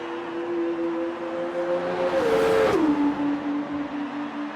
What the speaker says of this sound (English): Tremendous racing from both the Russian time cars as they are going into the final lap of the sprint race